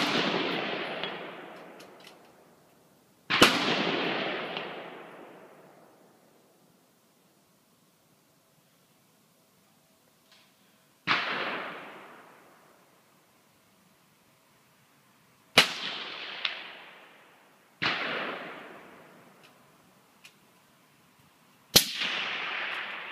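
Gunfire, heard as six loud single shots spaced several seconds apart, each a sharp crack followed by a long rolling echo that fades into near silence outdoors.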